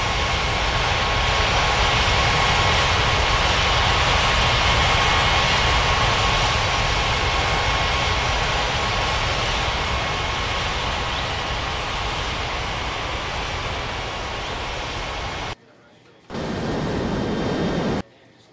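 A jet airliner landing at Ngurah Rai Bali International, runway 27, in an air traffic control game, makes a steady loud engine roar for about fifteen seconds, then cuts out briefly and returns before ending.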